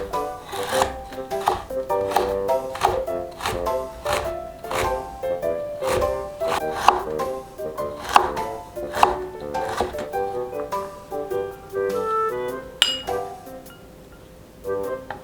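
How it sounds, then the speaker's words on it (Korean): A knife julienning carrots into thin strips for a Korean stir-fried potato side dish, with quick, steady chops on a cutting board over soft background music for about fifteen seconds. "감자를 절이는 동안 당근을 채 썰어 주세요"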